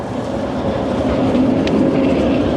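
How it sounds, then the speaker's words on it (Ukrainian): A tram rolling past on city street rails along a boulevard in Odesa, a steady loud rumble with faint clatter and a brief high squeal, close by and continuous without speech. "Трамвайчик."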